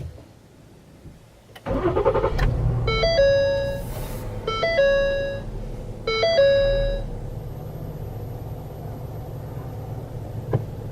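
A 3.5-liter V6 car engine cranks and catches, then idles with a steady rumble while a three-tone chime repeats three times over it.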